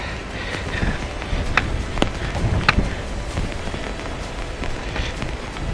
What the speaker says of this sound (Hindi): इतना तेज बारिश स्टार्ट हो गया।